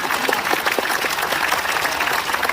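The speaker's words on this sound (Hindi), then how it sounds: "ताली बजा के" A church congregation claps their hands together, a dense and steady burst of many overlapping claps that fills the room for the whole stretch, with no voices over it.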